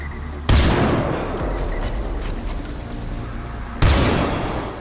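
Two heavy blasts from gunfire and an exploding tank in the video game Far Cry 4, each a sudden loud boom with a long rumbling decay, the first early and the second near the end.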